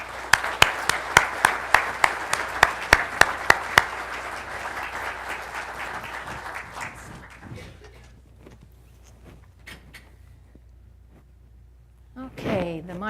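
Audience applause welcoming a speaker to the podium for a library history lecture at BYU. Sharp, loud claps ring out for about four seconds, then fade into scattered clapping and quiet room noise, with a brief voice near the end.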